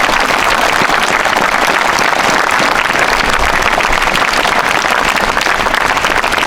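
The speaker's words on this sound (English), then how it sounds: "to give a huge round of applause to Diwan Singh" A large audience at an Independence Day ceremony gives a soldier named Diwan Singh a sustained, dense round of applause, loud and steady from start to finish with no voices above it.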